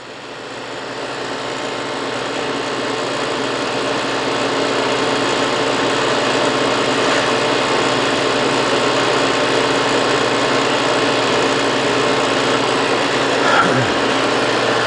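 A Branson IPC 300 barrel stripper and etcher venting, a steady mechanical hum with a broad hissing wash that rises gently in level and then holds continuously for several seconds.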